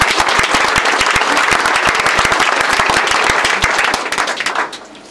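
A church congregation at a worship service claps loudly and steadily for Jesus in a dense, close burst of applause with some cheering. The clapping fades out near the end.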